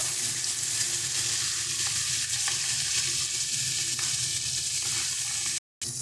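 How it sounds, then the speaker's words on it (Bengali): Rohu fish pieces fry in a pan with a close, steady crackling sizzle and faint scraping, continuous until a brief dropout near the end, with no talking. "একই রকমভাবে আমরা বাকি মাছগুলোকেও ভেজে নেব।"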